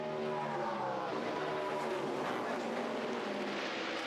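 NASCAR Nationwide Series stock cars racing at Iowa Speedway, a dense, continuous roar of several engines running together at full throttle with shifting tonal whines, steady and loud throughout without a break.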